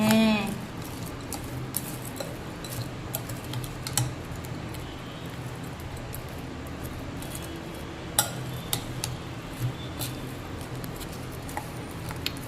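A spoon stirs Maggi bhel in a bowl, producing scattered light clinks and taps at an irregular pace over a steady low background hiss, close and fairly quiet.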